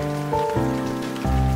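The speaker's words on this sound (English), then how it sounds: "it's raining." Rain falling in a children's animated toddler song scene about weather, heard as a steady patter beneath musical tones, with soft sustained notes shifting in short blocks and no talk.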